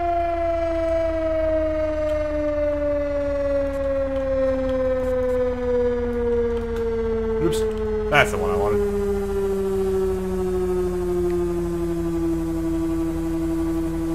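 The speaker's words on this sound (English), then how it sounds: "Definitely should have braked that siren." An emergency vehicle siren in the EmergeNYC firefighting video game holds a loud, steady electronic tone that slowly winds down in pitch, while a person talks briefly over it.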